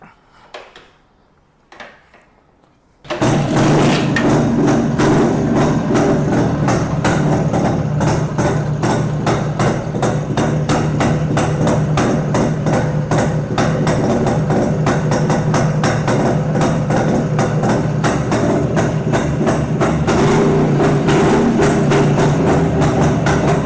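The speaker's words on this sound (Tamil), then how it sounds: "ஸோ இப்போ வந்து வெஹிக்கிளை ஸ்டார்ட் பண்ணி கொடுத்துட்றேன்." A 1995 Yezdi RoadKing motorcycle starting with a couple of short kicks and thumps, then its single-cylinder engine bursts into a loud, steady, rapid idle that runs continuously and close by.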